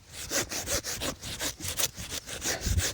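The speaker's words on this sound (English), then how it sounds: "sawing right down through the middle." A saw cuts down through the middle of an ornamental grass clump to divide it in a country garden, giving rapid rhythmic rasping strokes, close and fairly loud, about eight pushes in three seconds, with no speech.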